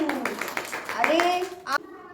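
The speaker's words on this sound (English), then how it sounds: "Clap for Dipanshu." Children clapping together in a classroom for a classmate during an alphabet recitation, a brief burst of claps mixed with kids' voices and an adult speaking.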